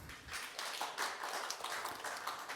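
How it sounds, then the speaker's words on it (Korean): Attendees at an academic foundation session applaud a presenter; faint, steady clapping from a modest audience continues for a couple of seconds. "박수 한번 주십시오."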